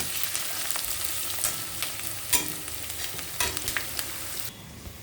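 Onion frying with cumin and ginger paste in a pan for prawn malai curry, a close, steady sizzle broken by scraping stirs that stops abruptly near the end.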